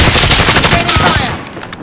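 Rapid automatic gunfire from a battle royale video game, loud and close, with bursts of repeated shots filling the clip before tapering off near the end.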